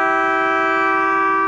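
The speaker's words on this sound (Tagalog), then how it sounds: "Ito nga pala yung kanyang busina. Ibubusina natin." A custom horn fitted to a Toyota Hilux GR blares in one loud, sustained, multi-toned blast, close by and without voices.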